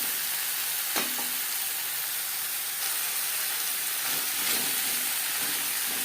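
Potato and pointed gourd stir-fry in a little oil in a pan, giving a steady loud sizzle with occasional scraping stirs throughout.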